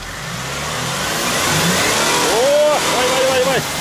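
A car engine revs hard while stuck in rain-soaked mud, the note building and holding loud and close, with a rising wheel-spin whine near the end.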